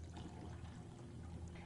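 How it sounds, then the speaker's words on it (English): Cold tap water pours steadily into a saucepan holding eggs, a continuous close, soft splashing rush that runs the whole short stretch with no voices over it. "the first thing you want to do is cover them with cold water"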